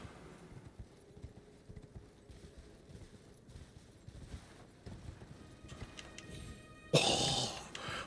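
A horse's hooves clip-clop quietly in Elden Ring, an irregular run of soft thuds at a distance, followed near the end by a sudden louder burst of game sound.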